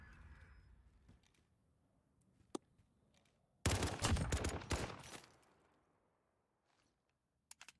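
Pistol fire in a Call of Duty Modern Warfare CDL match: a single sharp crack early, then a loud, dense burst of rapid shots lasting about a second and a half, and a couple of faint clicks at the end.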